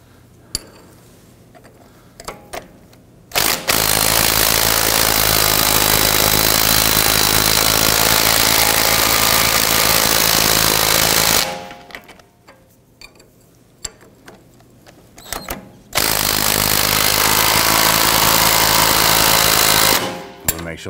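An impact wrench tightens nuts on the adjusting collar of a 1997-2006 Jeep Wrangler, with two long, loud buzzing bursts separated by quieter clicks and handling noises.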